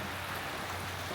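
Steady rain falls on a road in Indonesia, an even, dense hiss with no distinct drops standing out and no voices over it.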